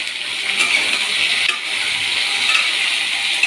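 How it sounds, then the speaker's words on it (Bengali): Constant bright sizzling of taro and potatoes frying in oil, close up, with a few soft scrapes of stirring. "কচু আর গাটি কচু আর আলুগুলো একটু ভাজা ভাজা হোক"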